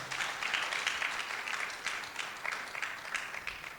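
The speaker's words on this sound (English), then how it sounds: "Let's clap again, ladies and gentlemen." An audience at a nursing association event applauds after a paper presentation, with continuous, fairly even clapping from a crowd filling the whole stretch at moderate loudness.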